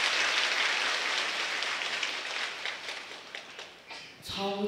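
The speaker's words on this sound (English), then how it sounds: "Please applaud her." An audience at a Dharma teaching in a Taiwanese temple breaks into applause, dense, steady clapping that gradually fades, just before a voice resumes speaking.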